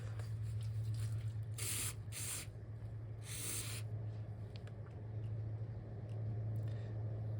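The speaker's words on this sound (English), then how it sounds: "spray it with carb cleaner" Several short hissing bursts of aerosol carburetor cleaner sprayed on a Murray 10HP riding mower, close by, over a steady low electrical hum.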